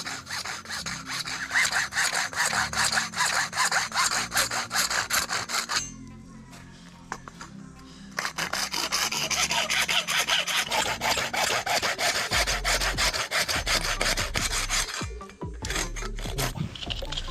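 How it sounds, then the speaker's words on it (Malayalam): Hacksaw blade cutting through a dry coconut shell, steady rasping back-and-forth strokes close up and fairly loud, with a brief pause partway before the sawing resumes. "എക്സോ ബ്ലേഡ് ഉപയോഗിച്ചിട്ടാണ് നമ്മളത് കട്ട് ചെയ്തെടുക്കുന്നത്."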